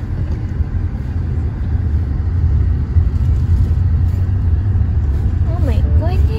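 Steady low road rumble and engine drone fill the cabin of a moving car, heard from inside, continuous and fairly loud. A voice briefly speaks near the end.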